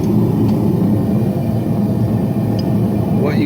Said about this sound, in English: you can actually hear right now blowing is the forge